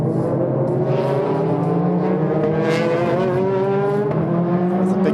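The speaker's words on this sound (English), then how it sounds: "the Takata Dome NSX of Ryo Mishigami, Takashi Kogure, who's at the wheel at the moment, going to take the checkered flag" A Honda NSX race car, the Takata Dome entry, in a Super GT race at Okayama, its engine whining steadily with rising and falling pitch as it drives toward the finish.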